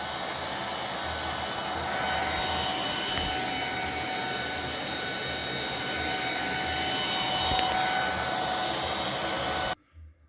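An Aerus Platinum vacuum cleaner roars steadily through the open end of its hose, a loud, even whooshing rush that holds for nearly ten seconds before cutting off abruptly.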